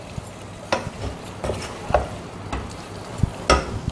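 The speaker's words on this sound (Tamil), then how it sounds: "அதனால் நம்ம போட்டு அதை நல்லா கிளறிடலாம்." Bitter gourd being stirred with masala in a pan, a soft sizzle under a run of irregular scraping and tapping strokes from the spoon, close and fairly quiet, with no voices.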